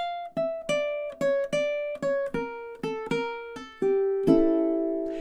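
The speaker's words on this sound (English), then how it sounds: "just this sort of nice melodic line going down the fretboard of the ukulele" Fingerstyle ukulele melody stepping down the fretboard in clear plucked notes, about a dozen at an even pace, each ringing briefly before the next, ending on a longer sustained note; close and alone, with no talking.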